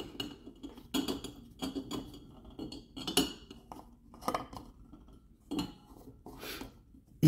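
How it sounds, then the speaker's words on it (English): Glass grain spawn jars having their lids loosened before an agar-to-grain transfer in a still air box, giving a series of close, irregular metallic clinks and scrapes with short pauses between them. "Loosen your jars."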